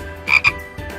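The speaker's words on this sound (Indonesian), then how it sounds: "Nah, seperti itu suara katak adik-adik." A recorded frog croaks in a few rasping bursts, close and clear, played for children at a Sunday school lesson.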